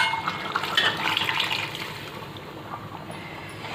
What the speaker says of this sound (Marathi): त्याच्यात आपण पाणी घालूया.